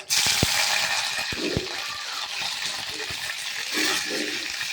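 Curry leaves dropped into hot oil already crackling with mustard seeds and chana dal, a steady bright sizzle with a few sharp pops and spoon clinks near the start, no voices.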